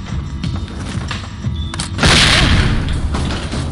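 Flashbang grenade detonating in the tactical shooter SWAT 4: a loud sudden bang bursting over background game noise after a few seconds of lower rumble, no talking.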